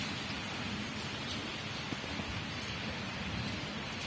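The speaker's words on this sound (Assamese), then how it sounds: "স্কুটি নিব নোৱাৰি বৰষুণ দি আছে" Light, drizzly rain makes an even, soft hiss that stays constant and fairly faint throughout, with no voices or other distinct sounds standing out.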